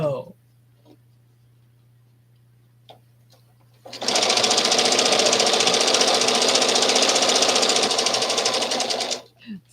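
A sewing machine stitching a quilt starts up after a quiet stretch and runs steadily with a fast, loud mechanical whir and rattle, then stops.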